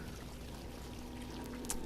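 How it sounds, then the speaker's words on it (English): Flowing water in the game Eldritch pours steadily under a low hum, a faint continuous trickle with no voices. "I hear water."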